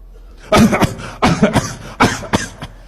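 Four sharp coughs in a row, close and loud, with short pauses between them and no talking.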